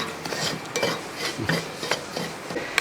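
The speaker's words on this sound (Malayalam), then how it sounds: "ആ റവ ഒന്ന് ഇളക്കി കൊടുത്ത് ഒരു മിനിറ്റ് ഇത്രയും മതി" Scraping and stirring semolina in a pan for mango laddu, a spoon rasping against the bottom in short irregular strokes, close by with no talking.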